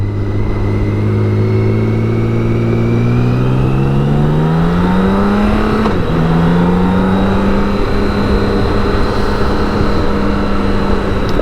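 A BMW K1600 GTL touring motorcycle, loaded up for a long road trip, accelerates hard onto the autobahn, its engine note climbing steadily through the gears with a short dip at a shift, loud and continuous under wind rush.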